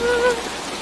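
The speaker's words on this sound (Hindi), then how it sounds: "बारिश बहुत तेज है" Heavy torrential rain falls as a dense, steady hiss, loud and continuous throughout.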